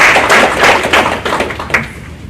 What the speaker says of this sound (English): We applaud you for what you're doing.